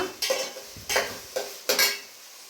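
Okra frying in oil for an egg and okra curry is stirred in a pan. Four distinct scraping strokes of the spatula come at a steady pace over a faint sizzle, close and clear, with no talking.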